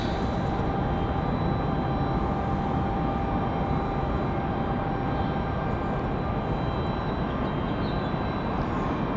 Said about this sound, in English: Got a CRJ on the move.